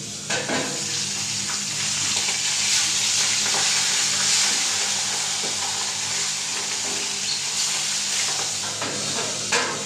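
A fish head fries in a pan of oil, giving a continuous close sizzle for about ten seconds with occasional light clicks and scrapes of stirring.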